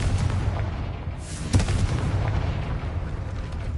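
The Confringo fire-blast spell in the video game Hogwarts Legacy fires a loud, booming burst that stands out against a dense, rumbling wash of game sound.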